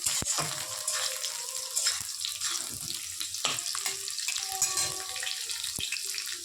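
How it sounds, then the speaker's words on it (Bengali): Vegetables fry in a pan with a constant hissing sizzle and occasional light clinks from stirring, close and moderately loud, with no voices. "এখন আমি এর মধ্যে এক এক করে সব সবজিগুলো দিয়ে ভাজা ভাজা করব"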